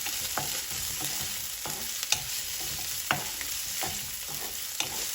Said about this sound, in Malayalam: ധാരാളം കൊച്ചുള്ളിയും ചേർത്ത് കൊടുക്കുക ഒന്ന് വഴറ്റി കിട്ടണം